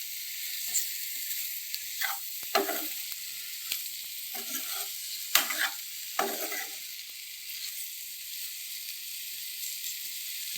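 Bitter gourd mixed with jaggery stirred and frying in a pan: a steady soft sizzle runs throughout, broken by several louder scraping stirs of the spoon, close and alone without talk.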